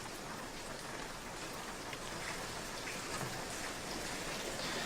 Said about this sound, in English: This rain don't seem to stop,